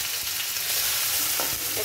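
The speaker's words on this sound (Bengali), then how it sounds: "দেখুন, চিংড়িটা একটু ভাজা হোক।" Shrimp fry in a wok for a curry with figs and banana flower, producing a steady close sizzle with a few brief stirring scrapes and pops.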